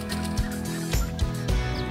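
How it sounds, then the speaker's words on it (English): A sandhill crane at the Great Salt Lake gives loud, rattling, repeated bugling calls close by, with no talk. "I hear a sandhill crane."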